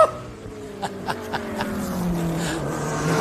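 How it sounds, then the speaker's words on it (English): A race car at Lime Rock Park in the IROC All-Star race accelerating hard, engine note rising through the gears with a few sharp shift breaks, close and loud, other cars droning behind. "He's working that car, changing the gears, getting on the acceleration"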